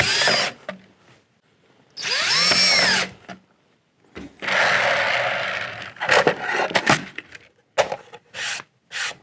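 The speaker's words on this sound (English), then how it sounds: "Now you're going to use the access holes to screw in." A power drill drives screws into Lazy Susan hardware on wood, with several close whirring bursts of varying length, some rising in pitch, separated by short silences and a few brief clicks.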